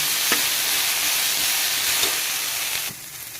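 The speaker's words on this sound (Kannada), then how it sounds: "ನೋಡಿ, ಕೊತ್ತಂಬರಿ ಸೊಪ್ಪು ಎಲ್ಲ ಹಾಕೋತಾ ಇದ್ದೀನಿ. ರೋಸ್ಟ್ ಮಾಡ್ಕೊತೀನಿ." Coriander leaves roasting in a hot pan for hotel-style vegetable pulao: a dense continuous sizzle with a couple of soft stirring knocks, close by, dropping off sharply near the end.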